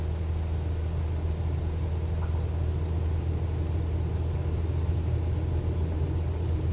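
A Cessna 172 at full throttle on its takeoff roll in Microsoft Flight Simulator 2024, giving a steady, loud piston-engine drone with a constant low rumble throughout.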